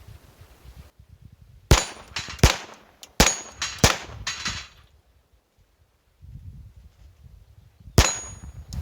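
Several sharp .22 LR rifle shots from high-velocity ammunition and a short barrel crack in quick bursts, each followed by a bright metallic ring. A final shot comes alone after a quiet pause.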